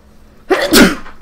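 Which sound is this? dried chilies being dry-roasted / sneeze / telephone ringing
sneeze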